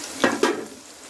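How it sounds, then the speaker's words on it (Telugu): Onions and green chillies hitting hot oil in a pan for a fish curry, giving a brief close sizzle that swells in two quick bursts and then settles into a steady frying hiss. "కోసుకున్న ఉల్లిపాయలు, పచ్చిమిరపకాయలు, నూనె పెట్టి నూనె కాగినాక ఇందులో వేసి ఎర్రగా వేయించాలి"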